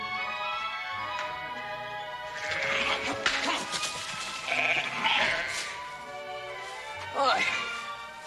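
Several sheep bleat, some near and some farther off, with wavering cries rising over a low rustle and a few knocks, while a person talks.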